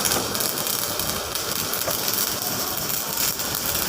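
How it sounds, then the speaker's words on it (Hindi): Round welding on a power plant coil gives off a loud, steady, harsh crackling hiss that runs without a break for the whole stretch, close by and with no talking over it. "ये राउंड वेल्डिंग हो रहा है।"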